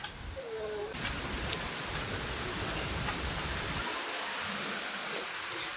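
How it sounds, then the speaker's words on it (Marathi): Rain falls steadily in a constant wash of drops, with a faint voice briefly audible near the start. "पाऊस लागला बघ यायला आता जास्त यायला लागला"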